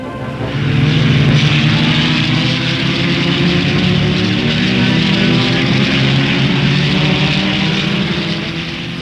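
A field of 1961 Grand Prix racing cars gets away at the start of a 150-mile race on a 2-mile circuit, a dense, sustained engine roar that swells in the first second and then holds steady and loud, with no talking.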